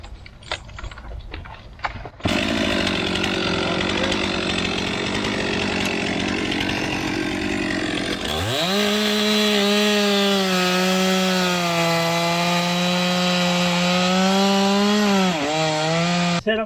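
A chainsaw bore-cuts into a South Carolina pine, first idling, then revving hard into the wood with a loud sustained whine that dips and steadies under load, close and continuous.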